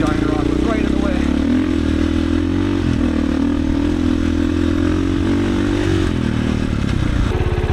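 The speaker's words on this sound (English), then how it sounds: "My turn on the KOVE 450 on some gnarlier two-track." A KOVE 450 Rally motorcycle runs over rough two-track. The engine roars loud and continuous with a steady drone, shifting revs, and clattering from the bumpy ground.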